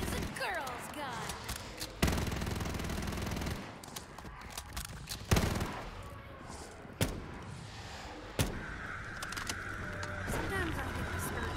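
Gunfire in Black Ops 3 Zombies on a custom Store Front map, with several sharp shots spaced a second or two apart over busy game noise and talking.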